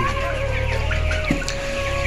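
Twenty-day-old chickens in a poultry shed, clucking and chirping in overlapping calls over a steady background hum.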